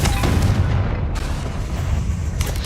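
A Confringo spell explodes in the video game Hogwarts Legacy with a loud, dense, booming blast. A continuous rumble fills the whole moment, and a sharper crack hits near the end.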